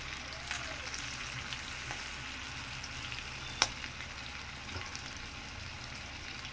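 Green chillies and peanuts fry quietly in oil, a soft, low, steady sizzle with one brief sharp clink partway through and no voices.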